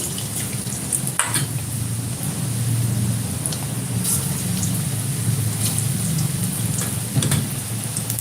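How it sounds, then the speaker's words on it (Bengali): Onion pakoras in gram flour batter frying in hot oil, a steady dense sizzle with crackling bursts, continuous and fairly loud throughout with no voices. "বেসন দিয়ে পেঁয়াজি ভাজা হচ্ছে"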